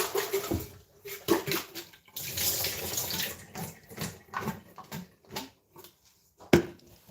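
Fruit rinsed by hand in a basin of clean water, with intermittent splashing and sloshing in close bursts, sharp drips and a louder slap near the end; no talking.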